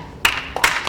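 Two brief bursts of clapping from an audience at a spring ensembles concert, the second coming about half a second after the first, sharp and scattered rather than a sustained ovation.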